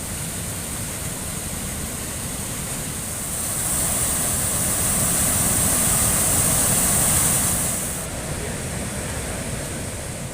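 Floodwater rushes through Kodiveri dam in a steady, loud roar of broadband water noise that swells noticeably in the middle before easing back, with no voices.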